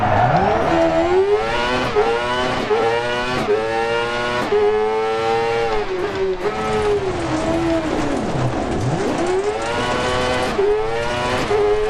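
A rally car in DiRT Rally 2.0 revs hard and loud throughout, its engine pitch climbing and dropping repeatedly through gear changes, with tire skids and squeals as it slides through corners.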